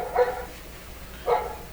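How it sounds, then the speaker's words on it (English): Neighbor's dog barking outdoors, two short muffled barks about a second apart, faint and distant as if carried indoors into a workshop. "There's a dog barking in my shop."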